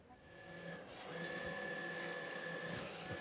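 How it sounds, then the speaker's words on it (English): An estate printer at Chatsworth House churns out a batch of health and safety notices with a faint, steady mechanical whir and a sustained whine that holds throughout, with no voices. "Estate printer Richard has been tasked to make a whole new batch of health and safety notices"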